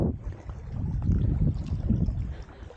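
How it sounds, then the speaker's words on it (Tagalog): Strong wind buffets the microphone out at sea on a fishing boat, a steady low roaring rumble that swells and eases, with water movement underneath and no voices. "Lakas ng hangin."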